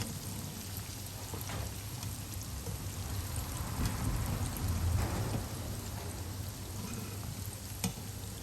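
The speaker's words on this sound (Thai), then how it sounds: "เราก็จะทอดจนกว่าจะเหลืองกรอบนะคะ" Chicken pieces deep-frying in oil over medium-low heat, cooking until golden and crisp, make a dense, even, rain-like bubbling crackle at moderate volume, with a brief knock near the end and no voices.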